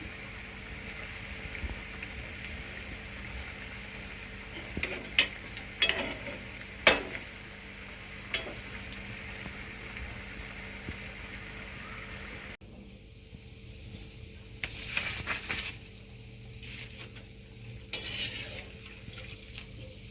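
Chicken keema vadas deep-fry in hot oil, a steady soft sizzle with scattered clinks and scrapes of a utensil stirring in the pan, close and fairly quiet.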